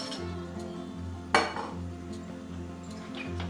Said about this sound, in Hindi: हम गैस पे एक पैन रखेंगे और उसमें एक चम्मच ऑयल डालेंगे।